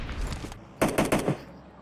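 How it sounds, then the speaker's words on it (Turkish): A quick burst of four sharp gunshots rings out in PUBG Mobile, evenly spaced and fairly close, following softer rumbling game noise. "Ya silahım yanlışlıkla sıkıyor."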